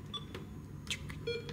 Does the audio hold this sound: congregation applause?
no